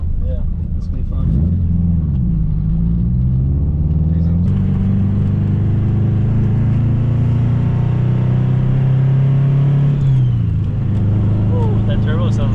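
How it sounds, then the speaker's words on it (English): A big-turbo, cammed Subaru engine rumbles and revs loudly while driving on the road, the pitch rising and settling in long pulls, with voices at times. "Ooh, that turbo sounds good."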